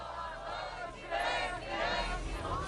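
Supporters of Lula cheering and chanting outside his prison cell in Curitiba, a crowd of voices rising in swells, moderately loud and continuous.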